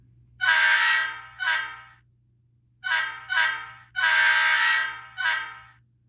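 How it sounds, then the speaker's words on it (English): A Kato SDP40F model locomotive's ESU LokSound decoder horn sounds in six short blasts, two long and four shorter, in an uneven pattern over a steady low hum, with no talking. "let's let you hear the bell on this and the horn on this engine."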